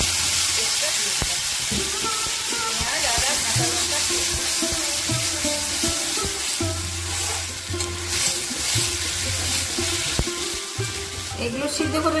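Cumin seeds, dry red chillies and bay leaves fry in hot oil in a karahi, giving a loud continuous sizzle with occasional stirring and a low background hum.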